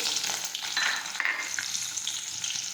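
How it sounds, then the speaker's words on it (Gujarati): Mustard seeds, salt, garlic and chili hit hot oil for a brinjal dish, producing a bright, crackling sizzle that stays close and constant throughout, with no voices. "હવે આપણું તેલ છે તે ગરમ થઈ ગયું છે હવે આપણે તેમાં રાઈ અને મીઠું નાખીશું લસણ નાખીશું મરચું નાખીશું"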